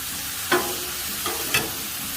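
Shrimp with green onions and scallions sizzling on a Blackstone griddle, an even, loud hiss up close with two or three short metallic taps of a spatula, no voices.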